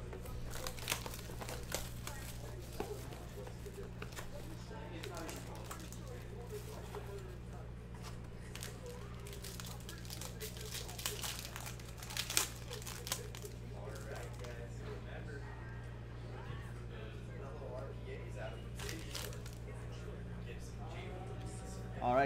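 Crinkling foil and cardboard rustle from opening a box of 2020-21 Panini Obsidian basketball cards, close handling noises with scattered crackles while someone talks steadily over them.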